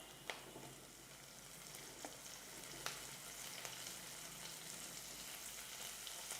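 Boiled cauliflower pieces frying in a pan with browned onions, a faint continuous sizzle with occasional soft clicks from stirring.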